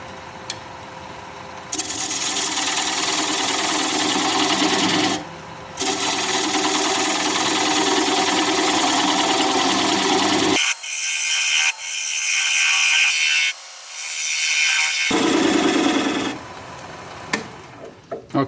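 Plum wood spinning on a lathe at about 600 RPM as the tenon is cut away, a steady loud scraping rasp of the tool that stops briefly several times, with a longer pause midway before cutting resumes.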